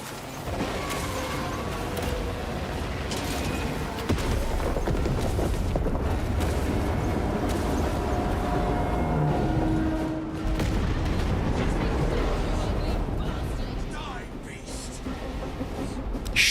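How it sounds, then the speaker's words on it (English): Explosive charges go off in a Space Marine video game, heavy rumbling blasts and mechanical clanks filling a dense loud battle mix, with voices talking throughout. "Detonate the charges now."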